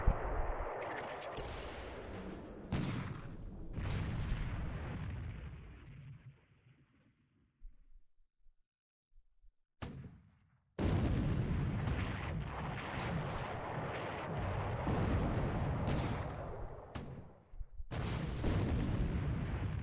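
Heavy naval gunfire and shell impacts from a WWII naval battle video game, 4-inch shells striking destroyers: repeated loud booming blasts in quick clusters, a brief lull near the middle, then a dense run of further explosions.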